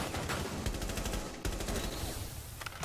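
Rapid automatic gunfire in the tactical shooter Rainbow Six Siege, loud and close, with dense overlapping bursts running nearly the whole time and a brief break partway through.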